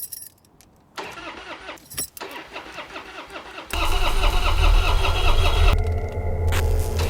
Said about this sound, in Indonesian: tiba-tiba mobil Martin mendadak mogok